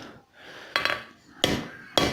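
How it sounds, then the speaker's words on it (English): Three sharp hammer blows strike a forged railroad spike against an anvil, spaced about a second apart, each a loud metallic clang with a brief ring trailing off between strikes. "we're going to use the anvil to hammer against."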